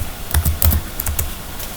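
Keys clack on a computer keyboard during a Google search lesson, a few quick uneven taps in short clusters, close and clear with no one talking.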